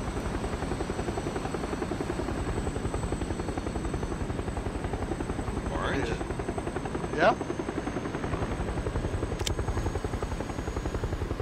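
In the PUBG video game, a supply drop plane drones steadily overhead with a constant, loud engine hum. Players talk briefly over it.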